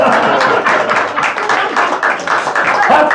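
Audience applause in a German live music show after a vodka song, a dense steady wash of many hands clapping throughout, loud and close, with some crowd noise mixed in.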